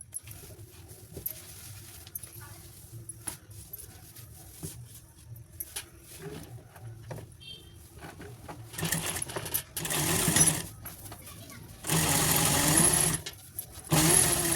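A sewing machine stitching the seam of a purse made from blouse fabric, with light clicks and handling at first, then loud, close bursts of rapid mechanical whirring in two or three stretches.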